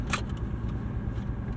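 A turbocharged 1995 BMW 325i driving, a steady low engine and drivetrain drone heard from inside the cabin, with a brief rattle near the start.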